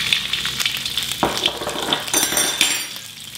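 Garlic sautéing in a little hot oil for kwetiau, a loud, close crackling sizzle with quick stirring clicks of a utensil against the pan.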